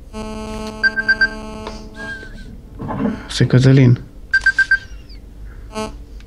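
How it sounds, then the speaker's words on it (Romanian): A phone ringing during a Portal 2 co-op game session, sounding as a few short, repeated electronic tone bursts. A voice speaks briefly among the game sounds around it. "Sună telefonul."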